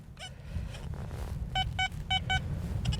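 XP Deus 2 metal detector giving a bright target tone over a musket ball: a run of short, quick high beeps over low background rumble and handling noise.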